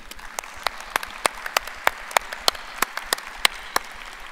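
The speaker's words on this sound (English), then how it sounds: "Let's give them a round of applause," A graduation ceremony audience claps for the physical therapy class of 2021. The applause is thin and scattered, with individual claps popping out rhythmically against a quiet background.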